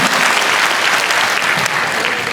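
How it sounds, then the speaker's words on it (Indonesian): An audience at a company training session bursts into loud, dense applause, a close and sustained wall of clapping across the whole moment with no voices over it. "Saya pinjam tepuk tangan Bapak Ibu untuk perusahaan."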